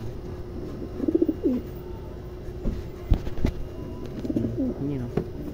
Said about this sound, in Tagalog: ganito talaga pagkuha ng kalapati yan